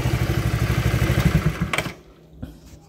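A car engine with a small radiator leak revs in a fast, steady pulsing rhythm for nearly two seconds, then cuts back to a quiet idle with a single faint clunk.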